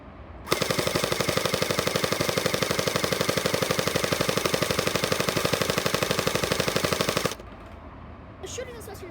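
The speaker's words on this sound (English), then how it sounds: "I'll be just dumping the magazine with full auto." A Splat R Ball gel blaster fires on full auto, a steady rapid stream of loud, evenly spaced shots for about seven seconds as the magazine is emptied, then stops abruptly, leaving faint handling noise.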